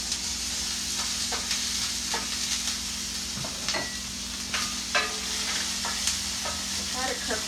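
Cut red onions, fresh garlic and fresh ginger frying in oil in a pan, a steady close sizzle broken by scattered sharp clicks and scrapes from stirring.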